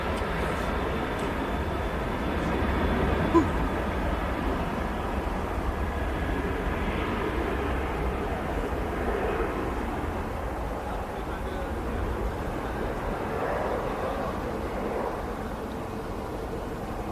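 A TUI passenger jet, departing Manchester Airport for Rhodes, climbs out after takeoff with a steady, distant engine roar and rumble, broadband and continuous throughout, with no talking over it.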